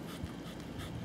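A dog pants steadily while doggy-paddling through lake water, quick close breaths continuing under faint splashing for about a second.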